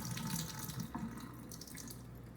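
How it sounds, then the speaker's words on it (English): Liquid from a can of jackfruit pours steadily into a sink, a continuous splashing stream near the microphone with a brief clink partway through. "we're gonna drain the jackfruit to get it ready for cooking"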